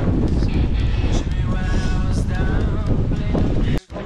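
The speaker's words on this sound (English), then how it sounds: "Oh my god, that wind!" Strong headwind roaring into the microphone while cycling on cobbles during a Paris Roubaix challenge ride, a loud constant buffeting rush that briefly drops out near the end, with a voice speaking under it.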